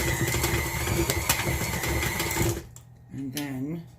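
An electric mixer churns chocolate chips into cookie dough for chocolate chip M&M cookies. A dense motor whir lasts about two and a half seconds, then cuts off, followed by a short spoken phrase.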